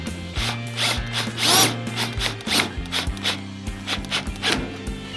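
Power drill driving in mounting screws on a GE clothes dryer, with several short bursts of motor whine rising and stopping, interspersed with clicks and scraping, close and fairly loud.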